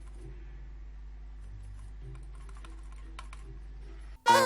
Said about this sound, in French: J'ai utilisé le clavier, oui.